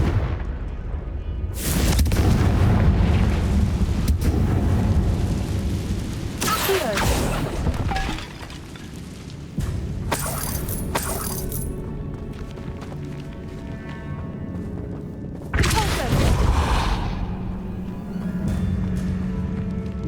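Confringo blasting spell explosions in the Hogwarts Legacy video game: several loud, booming blasts go off at intervals, each followed by crackling debris and rumbling battle noise that never fully dies down.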